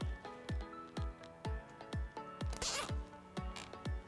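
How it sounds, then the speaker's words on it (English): Zip ties are ratcheted snug around a cable on a Juiced RipCurrent S or CrossCurrent X e-bike, giving a steady series of crisp clicking zips at about two per second, close and clear. "then we're going to reinstall the zip ties"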